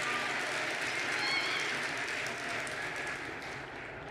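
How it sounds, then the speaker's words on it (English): Audience applause at the opening delegate session of the 2024 Wisconsin FBLA State Leadership Conference, a steady dense wash of many hands clapping throughout, fading slightly near the end. "let's have one final round of applause"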